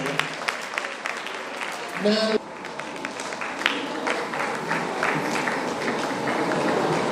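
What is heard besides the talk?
audience applause for the examination record officer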